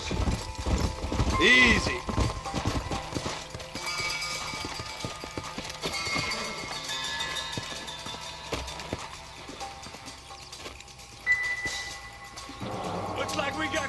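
Horses' hooves clip-clop in the Western video game Red Dead Redemption, a steady trotting rhythm with an occasional whinny. Characters speak briefly over the hoofbeats.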